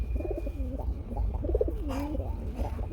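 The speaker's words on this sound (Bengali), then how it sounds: "এই যে দেখেন নটটা ডাক দেখেন বন্ধুরা, আপনারা ডাক দেখতে পাচ্ছেন" A black dauka pigeon, one of a pair at a pigeon market, gives soft repeated coos with rising and falling notes over a constant low background rumble.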